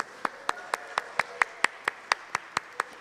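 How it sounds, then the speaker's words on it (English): After a church worship rehearsal, a small group claps in a steady, evenly spaced rhythm of about a dozen crisp claps, fairly close and isolated rather than a dense roar of applause. "Give yourselves a big round of applause."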